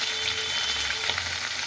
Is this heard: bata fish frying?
yes